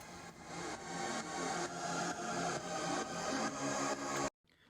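A reversed witch house sample pitched up three semitones, a bright, metallic, dense wash that swells in pulsing waves for about four seconds before cutting off sharply into silence.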